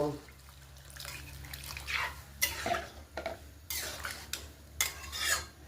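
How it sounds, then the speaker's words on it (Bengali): Pressure-cooked rajma stirred into a curry base in a pan, with several soft scraping and wet stirring strokes against the metal, quiet and close, with no talking. "একটু নাড়াবো, নাড়িয়ে তারপর আমরা জল দেব।"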